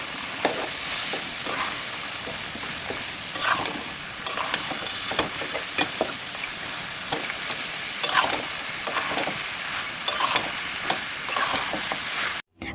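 Beef fries in a pan with turmeric, chili, cumin, coriander, garam masala powders and ginger-garlic paste, a loud continuous sizzle punctuated by repeated scraping stirs of a spoon against the pan throughout.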